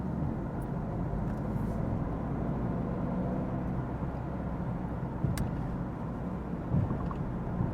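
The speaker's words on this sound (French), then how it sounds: "Je relance mon véhicule." Car driving on a town road, a steady broadband engine and road rumble that holds nearly constant throughout, close and continuous with no voices.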